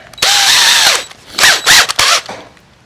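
A power drill whirs up close drilling through wood in one long burst, then in several short, choppy spurts, its pitch rising and dropping under load.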